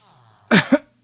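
Two close coughs in quick succession, then a third after a short pause, sharp and loud against a quiet room with a faint hum.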